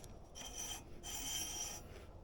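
Steel plate sliding into a Dana 44 axle housing, a quiet metallic rasping scrape in two strokes with a short pause between, close and alone.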